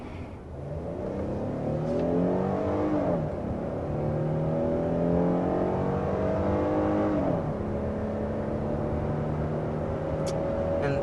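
A 2023 Hyundai Palisade with a 3.8-liter V6 accelerates hard uphill to 60 mph in Asheville, North Carolina, its engine climbing in pitch with two clear gear shifts. The drone is steady and heard from inside the cabin.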